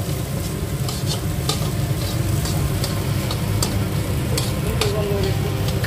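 Spiced masala being stirred through potatoes in a pan for a rawa dosa filling, a steady close scraping and stirring with a soft sizzle underneath, continuous throughout with no talking.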